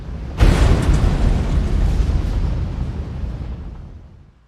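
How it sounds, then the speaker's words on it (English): An industrial storage tank explodes and blows off its lid, a sudden loud boom followed by a long roaring rumble that slowly fades away. "causing an explosion which blows off the tank lid and the ladder where 3 of the workers were standing"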